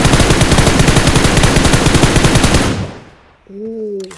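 Sustained automatic fire from an M4 rifle in the video game PUBG Mobile, a loud, rapid, evenly spaced stream of shots lasting nearly three seconds before cutting off, followed by a short electronic tone.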